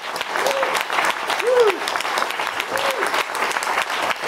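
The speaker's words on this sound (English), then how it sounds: "I'd like to have all of the winners here tonight stand for a round of applause" Diners at a journalism awards dinner applaud the evening's winners, a dense roomful of clapping running throughout, with a few brief voices and whoops rising above it.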